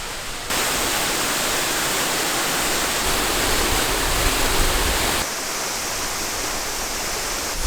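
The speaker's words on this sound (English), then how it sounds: "Lovely old bridge and a waterfall." A waterfall at an old stone bridge in Scotland, heard as a steady, loud, close rush of falling water with a dense hiss that continues without a break.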